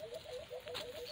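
Small birds calling by the lake in Talisay, Batangas: a quick series of faint, repeated chirping notes at a distance over soft outdoor background.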